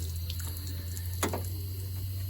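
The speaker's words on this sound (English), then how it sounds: "first I'm gonna wet the panel down" Water is sprayed onto the rusted rocker panel of a Dodge Ram truck to wet it before sanding. A short burst of spray splashes against the metal midway, set over a steady low hum with no talk.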